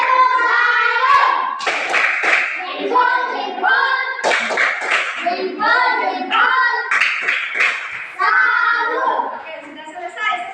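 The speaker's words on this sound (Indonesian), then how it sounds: "Kita tepuk salut dulu untuk kelompok sini" A group of children performs a tepuk salut clapping chant in a classroom, chanting in unison with rhythmic bursts of claps and hand slaps spaced through the routine.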